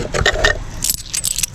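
Coins from selling dragon fruit jingle and clink together, a bright metallic rattling that comes in bursts, close and fairly loud.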